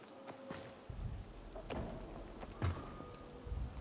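Soft, steady rain patter in the video game Dying Light 2, with a few faint dull thumps, quiet and continuous, no voices.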